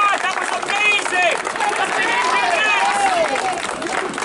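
An audience at an Edinburgh Fringe magic show claps and cheers loudly and continuously, with whoops and shouting voices through the applause.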